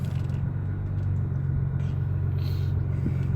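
A Nissan GTR rolls a short distance, giving a steady low engine rumble with faint mechanical creaks and no voices.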